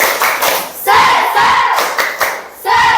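A group of people gives rhythmic clapping and loud shouted chant bursts together at a gathering, the claps and voices close and repeated in short waves.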